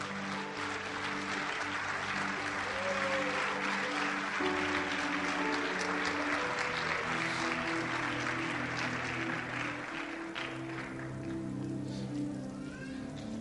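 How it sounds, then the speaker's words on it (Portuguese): A church congregation claps as people take their seats, a steady wash of applause lasting throughout, with music or singing tones sustained underneath. "Tome o seu assento aplaudindo Jesus,"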